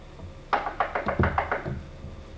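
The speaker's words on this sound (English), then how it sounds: "Go knock on the door." Someone knocks on a wooden door with a series of about eight firm, evenly spaced raps, close and distinct against a quiet room.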